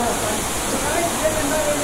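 A waterfall in the Uttarakhand mountains: a loud, steady roar of rushing water fills the whole clip as a dense, unbroken hiss.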